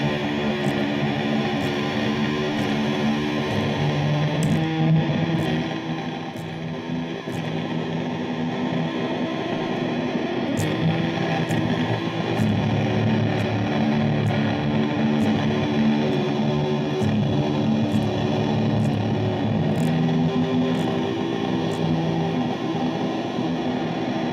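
Electric guitar driven through an Earthquaker Devices Tone Bender fuzz pedal with reverb placed ahead of it, a dense, sustained distorted wash with steady loudness and faint ticking transients throughout, no voices.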